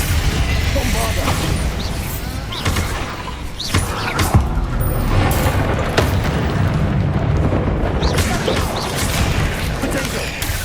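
Bombardo spell explosions in Hogwarts Legacy: loud booms and crashing blasts burst out repeatedly over a rumbling battle din, with a voice speaking between them.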